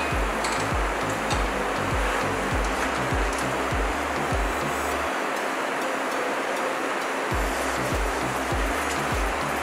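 Half a cup of water goes into a bottle gourd curry made from cooked puree in a pan, giving a steady broad hiss with faint scattered ticks and crackles that runs close and unbroken for the whole stretch.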